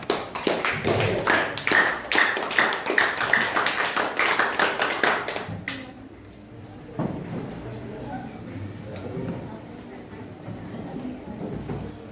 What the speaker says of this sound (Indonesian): Kita persilakan dengan memberikan aplaus.